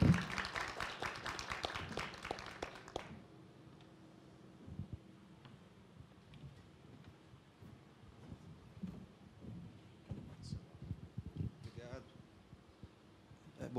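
An audience applauds at a health-care specialists' gathering. A burst of clapping fills the first three seconds, then fades into quieter room sound with talking.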